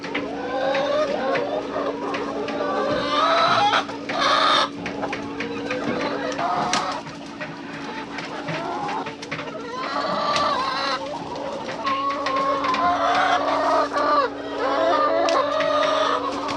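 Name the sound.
chickens clucking in a hen pen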